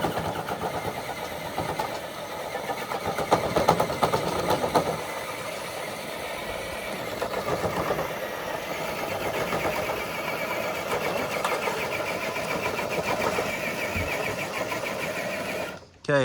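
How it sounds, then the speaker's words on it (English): A small RC truck engine, a black Blazer model at a truck pull event, runs with a steady high buzzing drone for about sixteen seconds, fairly close and continuous, with light background chatter mixed underneath. "Okay, here's next up, got Rob driving the black Blazer."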